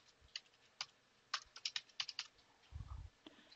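A computer keyboard is tapped to enter a command while setting up a firewall on Debian, a short burst of quiet, close key clicks in an uneven rhythm, ending with a slightly heavier keystroke.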